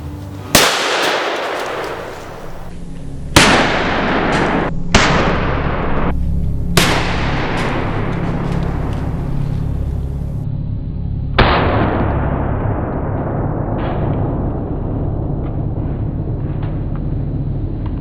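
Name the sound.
Ruger 1911 .45 ACP pistol gunshots at metal plate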